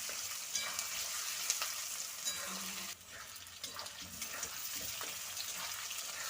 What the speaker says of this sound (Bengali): আগে আলুটা একটু ভেজে নেব।